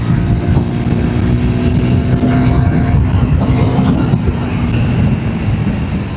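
A Triumph Tracker motorcycle, 2026 model, accelerates hard on a flyover, its steady engine drone and rushing road and wind noise filling the clip without any talk.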